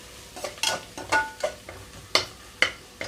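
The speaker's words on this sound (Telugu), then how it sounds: "పేస్ట్ అంతా కూడా వేగనిస్తున్నాను" Ginger garlic paste fries in a pan while being stirred for a meal maker biryani, with a soft background sizzle and repeated scraping strokes of a spatula at an uneven rhythm, close and unaccompanied by speech.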